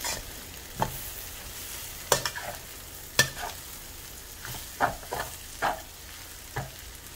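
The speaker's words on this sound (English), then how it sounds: "I'm now going to mix in all the noodles in together." Mamak mee goreng noodles are stir-fried with set eggs in a hot pan, the quiet background sizzle punctuated by about ten sharp, irregular spatula scrapes and clacks as the noodles are tossed together.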